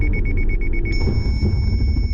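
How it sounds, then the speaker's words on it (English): Repeated high-pitched electronic warning beeps from a car's collision alert during an automatic braking test toward a motorcycle, ending in one sustained tone over a steady low rumble of road and engine noise. "Thanks to the beeps and automatic braking system, this car stops on its own in time."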